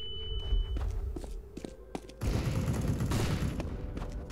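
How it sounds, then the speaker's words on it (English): A flashbang grenade is thrown in the video game CS:GO, with light game thumps and footsteps first, then a sudden loud burst that turns into a dense, sustained roar lasting several seconds. "Throwing a flashbang."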